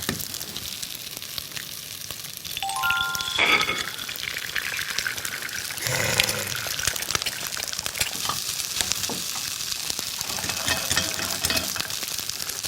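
Abalone fried rice stir-fried over high heat in a pan, crackling and sizzling continuously up close, with utensil scrapes and a few brief clinks throughout, no voices.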